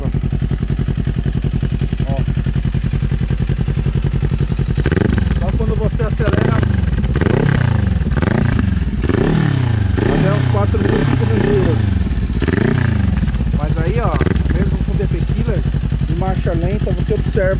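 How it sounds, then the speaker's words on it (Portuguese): A Kawasaki Ninja 400 fitted with a Jeskap sport exhaust idles and revs up close, a loud steady engine drone that rises and falls through several throttle blips before settling back. "Ó, como o ruído é baixo, nem parece que tem ponteira esportiva."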